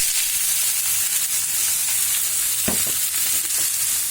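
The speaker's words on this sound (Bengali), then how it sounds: "এখন আমি পাতাকপি দিয়ে দিব।" Cabbage and cumin frying in a hot pan, a steady loud sizzle and hiss filling the whole stretch, with a brief clatter of stirring partway through and no voices.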